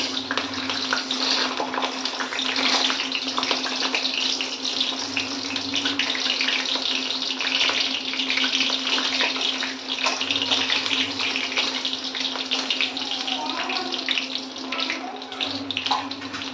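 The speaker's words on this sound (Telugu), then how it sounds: "ఆయిల్ బాగా మరిగింది కదా ఇప్పుడు మనం చెనపప్పు మినపప్పు చెలగుళ్ళు ఈ మూడు కూడా ఒకసారి మూడు కూడా కలిపి చేద్దాం" Chana dal, urad dal and peanuts fry in hot oil, giving a loud, steady sizzling hiss that runs unbroken throughout, with a low hum beneath.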